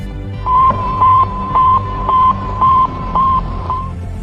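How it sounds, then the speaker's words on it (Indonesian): The Sputnik satellite's radio signal beeps at one pitch, six short evenly spaced tones over faint background hiss. "Sputnik memancarkan gelombang yang bunyinya seperti ini."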